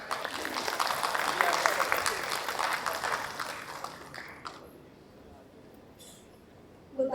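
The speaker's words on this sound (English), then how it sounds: "we really need for him a big round of applause" An audience at a TiECON event applauds after a speech, with dense clapping that gradually thins and fades over several seconds before the room falls quiet.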